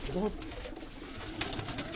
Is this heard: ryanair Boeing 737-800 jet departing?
no